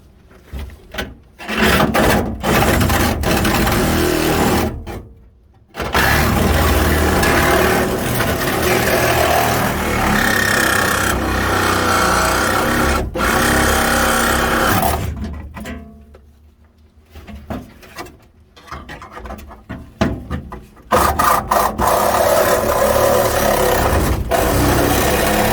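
A steel quarter panel on a 1967 Chevrolet Caprice is cut off with a power cutter, loud close bursts of harsh grinding and rasping that stop and restart several times, with short quiet gaps between cuts.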